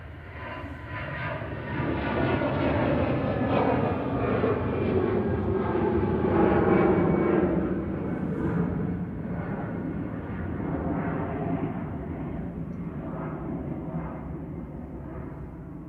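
An EasyJet airliner takes off at Manchester Airport, its engines sending a broad, loud roar that swells toward the middle and then holds steady as it climbs away, with no voices.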